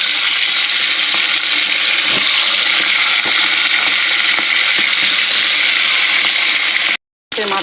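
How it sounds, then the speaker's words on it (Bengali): A fish head frying in hot oil in a wok gives a loud, close, continuous sizzle with faint crackles throughout, and the sound cuts out abruptly for a moment near the end. "ভেজে নেবো মাথাটা।"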